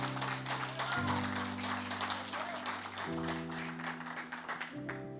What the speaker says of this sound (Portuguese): Se você puder aplaudir a Jesus por essa palavra, aplauda Jesus